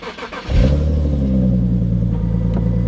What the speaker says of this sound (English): The car starts again, like nothing ever happened